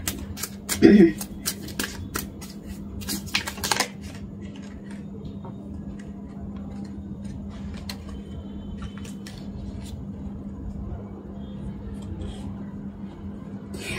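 Tarot cards are shuffled and drawn, giving a quick run of crisp riffling clicks and flicks at the start before fading to sparse soft taps over a steady low hum.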